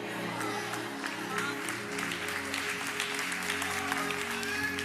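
Audience applause in a church-style gathering, a dense steady wash of clapping that runs throughout, with a low sustained hum beneath it.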